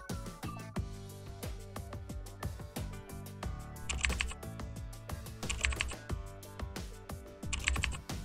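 Values typed into an Excel sheet on a computer keyboard: rapid, close clicking keystrokes in uneven bursts, with occasional heavier key presses standing out, no speech over it.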